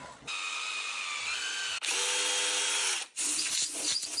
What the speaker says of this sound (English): I'm gonna start by drilling out the hole to quarter inch for an M6.